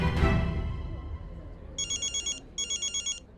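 A mobile phone rings in two short bursts of bright, trilling electronic tones, each about half a second long with a brief pause, following a fading louder sound at the start.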